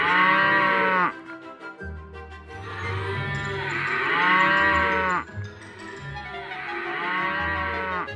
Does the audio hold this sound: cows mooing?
yes